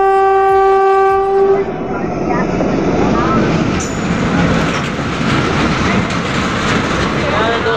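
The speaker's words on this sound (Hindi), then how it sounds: "इस साइड लगी हुई है भागलपुर सूरत एक्सप्रेस। चलिए यहाँ से देखते हैं डिपार्चर।" The Bhagalpur Surat Express departs a station with a long horn blast at first, then a loud, continuous rumble and clatter of rolling coaches close by.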